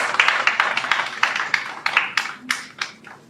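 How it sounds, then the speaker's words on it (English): Sparse applause from a small conference audience at an inauguration ceremony, a handful of distinct, fairly close hand claps in an irregular pattern that thins out over a few seconds. "Please give a big round of applause."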